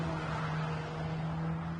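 A Mercedes-AMG engine near 7,000 RPM with a Speed Shift 8-speed dual-clutch gearbox, heard as a steady, loud, dense drone with a strong low hum held evenly for the whole stretch, no talk over it.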